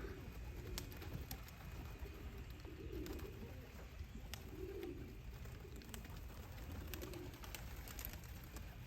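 Domestic white pigeons coo softly in short repeated bursts against a steady outdoor background, fairly faint and at a little distance, with no speech.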